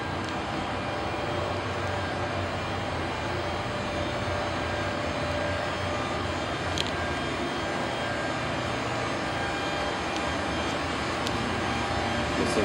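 Generators running to cool a parked airplane at the jet bridge give a steady, loud, unbroken mechanical drone, with faint clicks over it and no talk.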